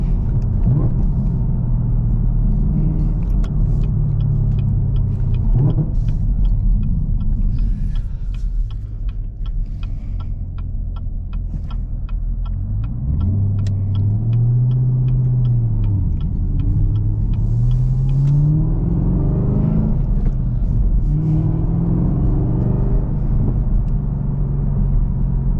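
A Chevrolet Camaro ZL1 with a supercharged engine and 6-speed manual, driving from inside the cabin, giving a loud deep engine rumble that rises and falls through revs and gear changes.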